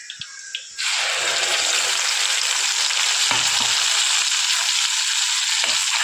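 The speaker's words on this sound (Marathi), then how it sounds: "छान तेलामध्ये आता वाटणही परतून घ्यायचं आहे" Ground masala paste for a homestyle fish curry hits hot oil and sets off a loud, steady sizzle that fills the rest of the clip, close up, after a few soft knocks at the start.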